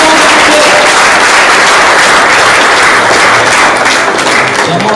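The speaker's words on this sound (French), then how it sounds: "On applaudit très fort pour" A crowd at an induction ceremony applauds loudly and steadily, a dense, close wash of clapping that holds at full strength throughout.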